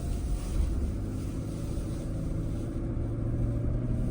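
A Toyota Land Cruiser 250, newly delivered, gives a low, steady engine hum with road noise from inside the cabin on a narrow road, faint and even throughout with no sharp surge.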